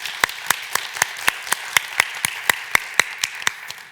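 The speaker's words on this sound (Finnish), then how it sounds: "Ja otetaan vielä yhdet aplodit kaikille." Finnish seminar audience applause: evenly spaced sharp claps, about four per second, close and crisp over a faint room background, with no talking.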